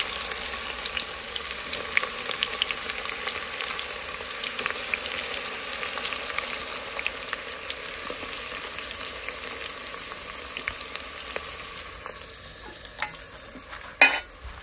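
Onion and garlic fry in hot oil with a dense, continuous crackling sizzle that holds steady throughout, with one sharp clatter near the end.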